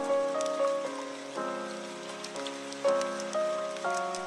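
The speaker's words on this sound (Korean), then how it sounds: "비가 내립니다." Steady rain falls in an even, hissing wash under sustained, slowly changing musical chords, with no voice.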